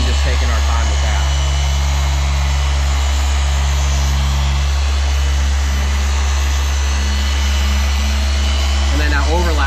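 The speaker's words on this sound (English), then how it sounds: "I'm letting the machine itself and the pad do the work" A polishing machine with a pad buffs car paint for paint correction, giving a loud, steady droning hum with a low constant tone through the whole clip, with a voice talking over it.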